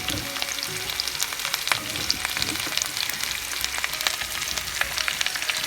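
Onion, ginger and garlic sautéing in a frying pan for Chinese fried rice, a steady close sizzle and crackle with faint stirring, no voices.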